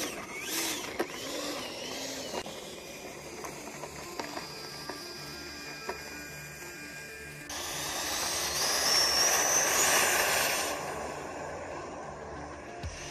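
E-flite F-16 Thunderbirds 70mm 6S electric ducted-fan RC jet taking off in wind, a steady hissing whine that swells loud and near for a few seconds before easing off.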